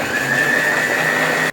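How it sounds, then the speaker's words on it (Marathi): A mixer grinder whirs steadily, grinding green chutney made from coriander, ginger, green chillies, dhokla pieces and a little water, loud and close in one continuous burst. "त्याच्यामध्ये अद्रक आणि थोडासा 2 मिरच्या आणि ढोकळ्याचे तुकडे छोटे छोटे असलेले थोडंसं पाणी टाकून आपण वाटून घेऊयात"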